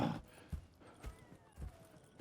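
Horse hooves clip-clop at a steady walking rhythm in Red Dead Redemption 2, about two soft thuds per second. The sound is faint and close, with light ambient noise.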